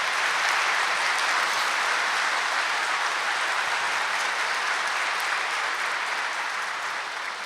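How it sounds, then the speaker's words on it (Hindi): A large seated audience at a Brahma Kumaris spiritual talk claps loudly and continuously, a dense, even wall of applause that holds steady for several seconds and tapers slightly at the end, with no voices over it. "सभी एक बार जोर से तालियां बजाएंगे,"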